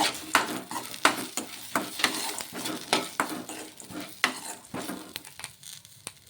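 Lentils with tamarind and mint are stirred in a hot pan: a run of repeated scraping strokes at an uneven rhythm rides over a soft, continuous sizzle, heard up close with no talking.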